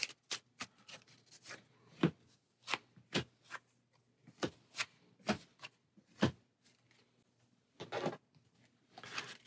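Dice Throne Adventures level 2 tiles being shuffled and set down on a table, a run of sharp, close tapping and clacking bursts with brief pauses between them, ending in a longer, denser rattle.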